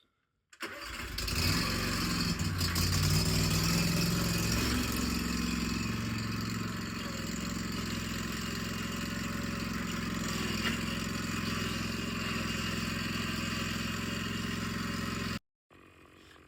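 Lawn mower engine starting up and settling into a steady, loud running drone at close range before grass cutting begins, then cutting off abruptly near the end.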